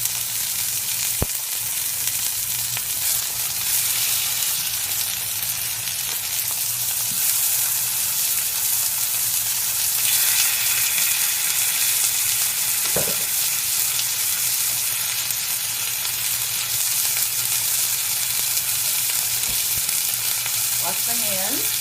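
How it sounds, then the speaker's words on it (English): Chicken thighs browning in hot olive oil in a pan, a steady close sizzle and crackle running throughout with a few brief clinks of utensils and no talking. "I'm going to just toss them in here and get them browned on the outside."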